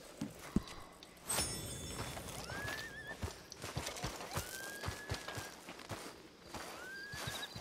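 Horse hooves clip-clopping at a walk in Red Dead Redemption 2, a steady close rhythm of hoof falls mixed with several neighs and whinnies, no talk over it.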